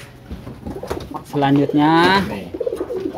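A racing pigeon coos close by, one deep rolling call in the middle of the clip, surrounded by quiet talk from people nearby.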